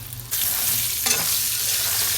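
Pointed gourd frying in a pan with chopped garlic and onion gives a loud, steady, close sizzle, with a brief scrape of stirring partway through and no voices.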